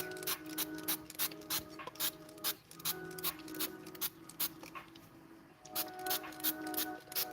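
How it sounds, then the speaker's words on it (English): A spray bottle mists water onto paper before painting, with a series of short, quiet spritzes in irregular bursts, some rubbing in between. "I'm always starting with the spraying water on it to prepare it for the painting"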